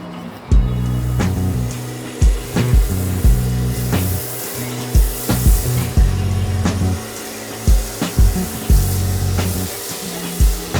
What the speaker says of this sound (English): I'm just going to go panel by panel, mist it, make sure that stuff has time to sit on there and really eat away at the grime